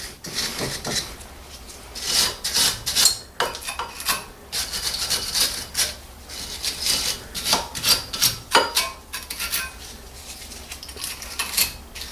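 Brake caliper on a 2013 Lexus CT200h being scrubbed clean during a front brake pad change, close-up rasping and rubbing strokes in uneven bursts with occasional light metallic clinks, no talking.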